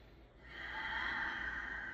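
Ujjayi breathing during a yoga session: a single loud, raspy inhale through wide nostrils, close and hissing, that swells and holds steady for about a second with no talking.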